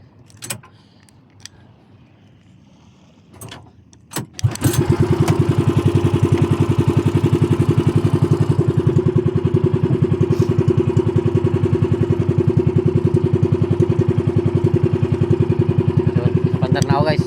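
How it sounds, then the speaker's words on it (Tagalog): A motorcycle engine is started after a few clicks and clanks, then idles steadily with a loud, even, throbbing rumble that continues close by to the end. "Pandar muna ako guys, pandar. Ang makina natin."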